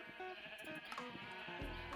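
Sheep in the Minecraft video game bleating as they are shot, a couple of short game bleats over steady background music, fairly close and clear.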